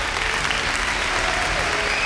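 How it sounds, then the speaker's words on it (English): A big crowd applauds loudly and steadily at a show aboard the cruise ship Symphony of the Seas, a dense wash of clapping that holds throughout. "Can you give a big round of applause"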